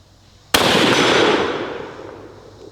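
A hunting rifle fires once at a steel target plate outdoors: one sharp, loud crack followed by a long, fading rumble of echo.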